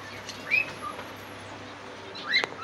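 Small birds in a home aviary give two brief, bright chirps a couple of seconds apart over a low, steady indoor background.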